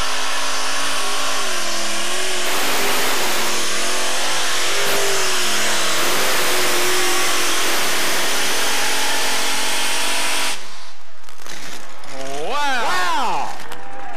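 Kelly Chevrolet Special unlimited modified pulling tractor roaring at full throttle, loud and saturated for about ten seconds with shifting pitch, then cutting off as a faint engine and a voice with rising and falling tones remain.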